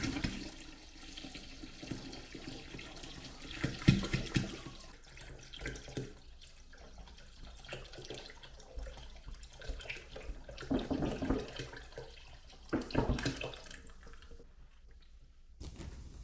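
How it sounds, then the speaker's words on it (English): Water pours into a homemade wine fermentation vessel holding crushed berries and raisins, a steady splashing stream with a few louder gushes, running alone with no talk before it tapers off near the end. "Finally, we pour in the water."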